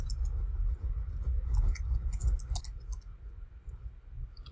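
A computer mouse clicks a few times, sharp and sparse, over a low background hum with no voices.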